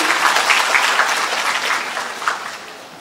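Steady, fairly loud applause from an audience at the closing ceremony of a university cultural performance in a Thai auditorium, a continuous wash of many hands clapping without speech.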